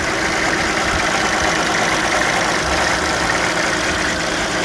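Idling 2005 VW Touareg with the 3.2 engine, recorded close to the engine bay, giving a loud steady mechanical hum with a faint repetitive knock running through it.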